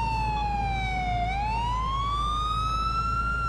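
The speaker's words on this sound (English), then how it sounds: "I've left the sirens on" Police car siren in the GTA 4 video game, a steady wailing tone that dips then rises again, loud and continuous against a low engine rumble, with no talking.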